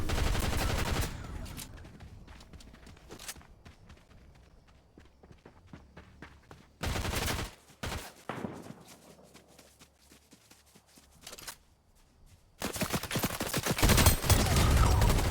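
Bursts of gunfire from a gun in the Fortnite video game, several loud rapid volleys separated by quieter stretches of movement and footsteps, the final burst sustained and heavy.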